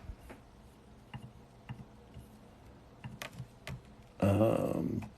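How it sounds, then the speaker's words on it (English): Typing on a computer keyboard, scattered soft key clicks in short irregular runs, quiet and close, ending with a louder burst of rustling noise near the end. "And then I'll just type in"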